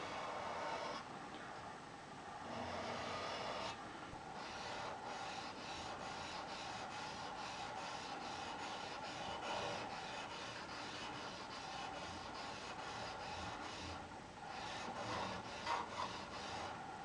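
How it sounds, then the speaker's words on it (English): A Scandi-ground knife blade clamped in a vise setup being sharpened, a steady run of close, rasping strokes that continues almost without pause. "That's how I sharpen my knives in the field."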